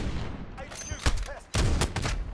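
Gunfire in Modern Warfare, with an AX-50 sniper rifle and an automatic rifle in play: two sharp, loud shots land about a second apart, followed by a dense burst of fire, with faint voices underneath.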